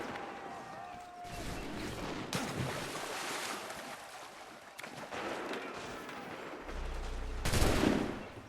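Massed musket volleys in the video game Assassin's Creed, with several loud bursts of gunfire breaking through a rushing ocean and wind-like background, alongside shouted commands.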